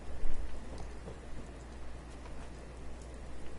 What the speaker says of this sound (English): It's a little rainy in here